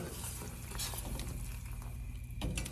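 Sugar syrup for jalebi being stirred in a pan, a steady close scraping and swishing with a soft sizzle running continuously and evenly throughout, no voices.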